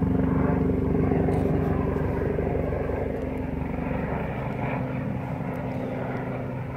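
A helicopter drones steadily overhead, its rotor and engine hum loud at first and slowly easing off, with no voices present.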